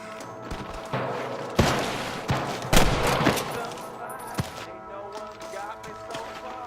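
Rapid gunfire in Red Dead Redemption, a Western video game: bursts of overlapping rifle and pistol shots with sharp loud cracks and thuds during a firefight. Voices shout in between.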